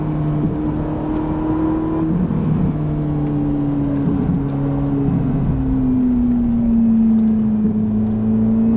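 A Ferrari F458 engine pulls hard on a race track, a loud, close, continuous drone whose pitch climbs steadily with a brief dip partway through as it accelerates.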